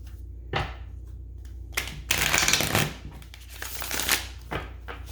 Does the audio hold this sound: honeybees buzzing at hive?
no